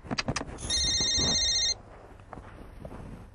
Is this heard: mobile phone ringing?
yes